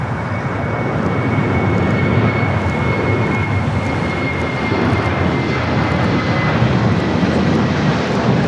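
An airliner takes off at LAX with a loud, continuous roar of jet engines that fills the scene and holds steady throughout, heard alone without talk.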